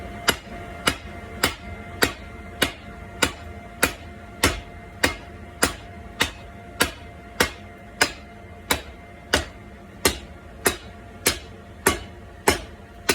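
Steel being hammered on an anvil at a blacksmith's forge, with steady, evenly spaced ringing strikes roughly every 0.6 seconds, close and clear, and no talking.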